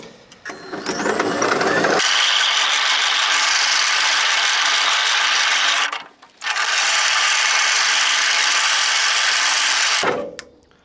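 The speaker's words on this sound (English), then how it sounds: "So nearly done coring here." A powered lawn corer punches through turf during a spring grass renovation, roaring loud and close with a dense mechanical rattle. It starts after a couple of seconds, cuts out briefly midway, then runs again before stopping.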